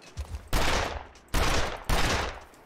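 Three loud gunshots ring out in the survival game The Long Dark, irregularly spaced, each a sharp blast trailing into a short roaring decay, with a few faint footstep-like sounds before the first.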